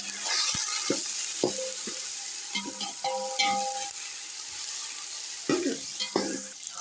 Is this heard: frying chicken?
yes